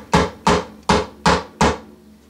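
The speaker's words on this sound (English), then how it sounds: "Hammer, please. Crack, crack." A hammer strikes five times at an even, steady pace during repair work on a 66-year-old Gibson guitar, each blow a sharp, loud, close knock with a short ringing tail and no talking.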